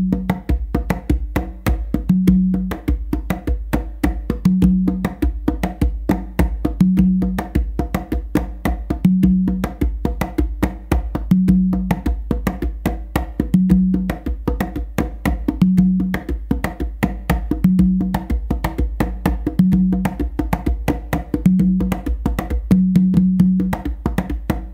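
Conga drumming in a steady bass finger clave exercise: a continuous stream of light fingered strokes with low, muffled bass tones recurring at a regular clave spacing, close and alone without talk.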